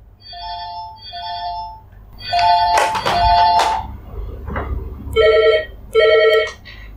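A phone rings with repeated electronic two-tone bursts in short regular pairs. A second, lower-pitched ringtone joins near the end, and both are loud and close. Brief speech cuts in between the rings.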